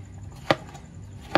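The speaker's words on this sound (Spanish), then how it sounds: "Pues vamos a moler el coco, lo vamos a cortar en pedazos para que no nos dé trabajo." Coconut being cut into pieces with a knife, two sharp, close chops on a board spaced under a second apart over a quiet background.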